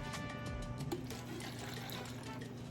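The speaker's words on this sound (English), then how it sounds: "now I'm gonna take a measuring cup and I'm going to scoop some of this broth in here" A measuring cup scoops hot chicken tortilla soup broth from a pot, producing soft close liquid sloshing and pouring sounds over a steady kitchen hum, with no one speaking.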